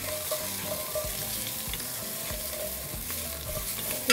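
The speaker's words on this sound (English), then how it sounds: "we're going to begin to fry our onion" Onion fries in a pan with a steady, close sizzle and soft stirring scrapes. No voice is heard.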